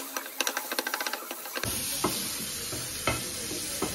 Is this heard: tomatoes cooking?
yes